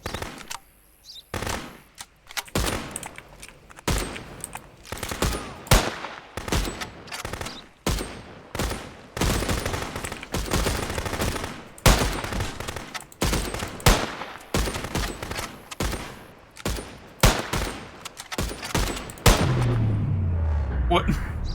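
Rapid bursts of automatic gunfire from the Contraband Police video game, loud and near, with dense repeated volleys nearly nonstop and a deep low boom or rumble near the end.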